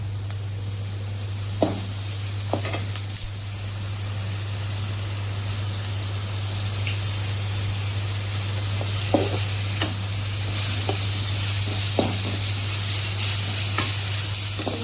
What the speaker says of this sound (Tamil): பூண்டு பச்சை வாசனை போகிற அளவுக்கு வணக்கலாம்